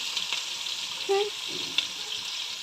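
Ginger and garlic frying in a pan for a Kerala-style tuna curry give a soft, steady sizzle, with a brief stir and a light clink partway through.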